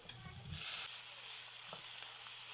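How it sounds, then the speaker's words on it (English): Onions sizzling in oil with mushrooms, garlic and peppers for a creamy veggie pasta, a soft steady frying hiss with a brief louder burst of sizzle early on. "Add a little bit of salt and add in our onions."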